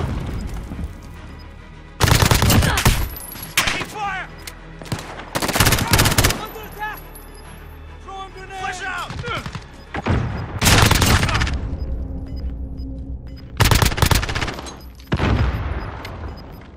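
Bursts of automatic gunfire and heavy shots from Call of Duty: Modern Warfare (2019) come in several loud clusters separated by quieter stretches, with radio-style voices and game ambience between volleys.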